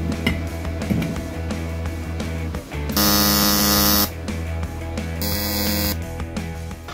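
A TIG welder works on porosity in a motorcycle engine head in a home garage, giving a steady electrical buzz and hum with two louder, harsher bursts of arc sound, with no voices.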